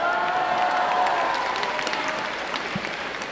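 Brief, steady applause from a convention crowd at a manga author's talk at Japan Expo, dense clapping with no pause and a faint hum of the hall underneath.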